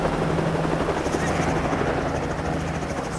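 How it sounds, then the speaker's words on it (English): A helicopter flying over an archipelago, its rotor thumping in a steady, continuous beat with a broad whooshing roar, close and sustained throughout. "you can have a 30-minute helicopter ride around the archipelago"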